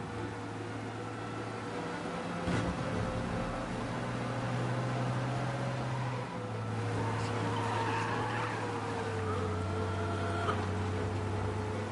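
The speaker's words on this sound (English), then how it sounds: "We lose them by driving real fast and getting clear of them." A car in Mafia Definitive Edition speeds along with a steady engine drone and brief tire skids during a police chase, alone without talk.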